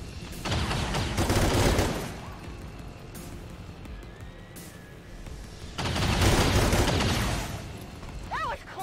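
Heavy gunfire in XCOM 2 combat comes as two dense, loud bursts of rapid shots separated by a quieter stretch, with crashing impacts and a brief voice-like sound near the end.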